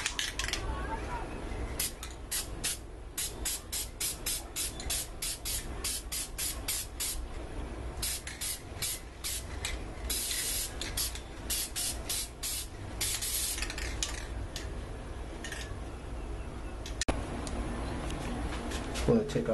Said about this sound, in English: Just going to take that gold spray paint.